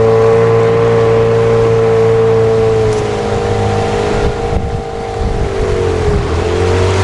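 Motor vehicle engine droning steadily while driving along a river, a continuous low hum with a slight pitch shift midway as the load changes, close and loud with no voices.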